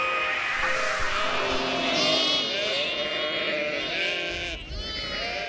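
A flock of sheep on a Swiss lamb-rearing farm near Estavayer-le-Lac in Fribourg bleats continuously, with many overlapping loud, wavering calls close by and no speech.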